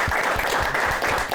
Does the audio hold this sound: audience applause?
yes